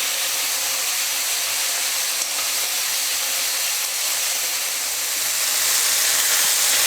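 Chopped tomato hits sautéed onions and curry leaves in a hot pan for a mango and brinjal kara kuzhambu, giving a loud, steady, hissing sizzle that swells slightly toward the end.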